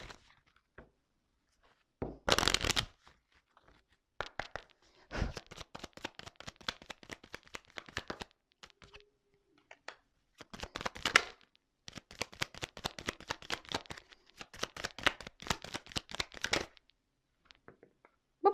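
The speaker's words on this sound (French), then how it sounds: "je vais prendre quelques cartes, juste 3 cartes" Tarot cards are handled, shuffled and drawn, giving bursts of rapid crisp riffling and flicking separated by near-silent pauses, all close up with no talking.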